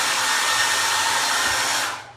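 A hair dryer blows loudly and close with a steady rushing whoosh, then cuts off and winds down just before the end.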